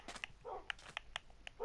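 A dog whimpers and yips inside a video game, several short high cries in quick succession, with some breathy noise between them.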